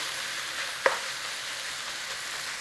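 Sausage meat for a sausage, tomato and onion pie frying in a pan, a steady broadband sizzle throughout with one sharp scrape or tap of a utensil breaking it up early on.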